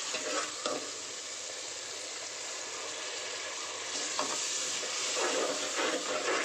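Ground paste of coconut, fennel, cinnamon, cloves, ginger and garlic sautéing in hot oil, a steady loud sizzle with stirring scrapes throughout.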